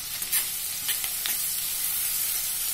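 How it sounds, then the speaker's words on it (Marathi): Finely chopped onion sizzles in a pan of hot oil with a bay leaf for a spicy dhaba-style whole masoor dal, a steady close crackle with a few brief stirring scrapes and no talk. "बारीक चिरलेला हा कांदा, एक वाटीभर बारीक चिरलेला कांदा आहे"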